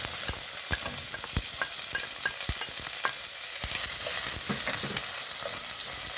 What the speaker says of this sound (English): just give this a saute in your pan with your olive oil